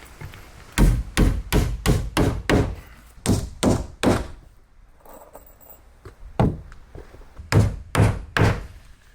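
Hammer blows on wood in quick bursts of several strikes each, with short pauses between the runs; close and loud, no talking.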